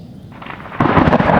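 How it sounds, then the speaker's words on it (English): Thunder from lightning during a rainstorm, heard outdoors at a triathlon training session, opens as a low rumble then swells into a louder, broad crackling roll over about a second and a half. "I heard a bolt of lightning go off behind me"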